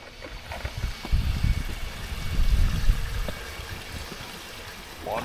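Water rushes through a garden hose feeding a pressure washer buffer tank, making a fluctuating hiss and gurgle that swells and eases. It plays close by with no talk over it.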